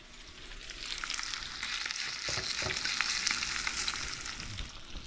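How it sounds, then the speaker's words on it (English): Fish fillets frying in hot butter in a pan, a steady close crackling sizzle with occasional pops, rising slightly and holding level throughout, with no voices. "Throw them in that hot butter."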